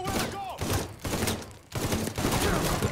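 Bursts of automatic rifle fire crackle in rapid clusters during a cover shootout in Mafia 3, loud and close, separated by short gaps.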